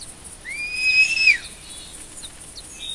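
A pheasant flying overhead in the hunting video game theHunter 2016, heard as a quick whistling, rushing swoop that swells and fades over about a second against a quiet outdoor backdrop, with no talking.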